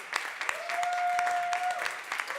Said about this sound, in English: Let's clap one more time.